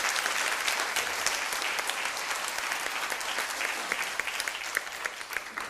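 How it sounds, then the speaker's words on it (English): Steady, dense applause from a large audience at a speaking event, sustained and fairly near for the whole stretch with no voices over it. "Give them the biggest round of applause,"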